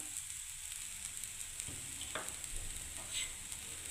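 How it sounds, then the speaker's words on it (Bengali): Semolina being stirred as it fries in a pan for upma, giving a steady low sizzle with faint scraping strokes and no talking. "এবার আমি সুজিটাকে নাড়তে থাকবো বন্ধুরা।"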